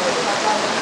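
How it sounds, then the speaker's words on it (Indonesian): Heavy rain pours down at Guci Forest as a dense, loud, continuous hiss of falling water, unbroken through the brief moment. "Hujan lebat."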